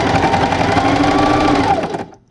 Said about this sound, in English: sewing machine and I'm going to sew directly on the line